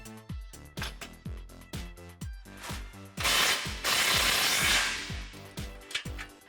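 A socket ratchet and wrench tighten the bolts of a Barricade front skid plate on a 2010-2018 Jeep Wrangler JK. The close ratchet pawl clicks come in quick rhythmic strokes, broken by a brief louder burst of harsh noise midway.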